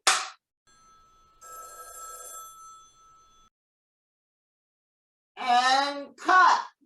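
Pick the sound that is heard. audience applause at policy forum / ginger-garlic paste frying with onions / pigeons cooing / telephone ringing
telephone ringing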